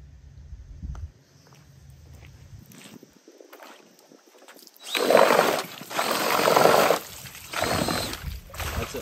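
Cordless drill spinning a paddle in a 40-gallon water stock tank: after quiet handling clicks, loud whirring bursts with churning, sloshing water rise and fall in several surges.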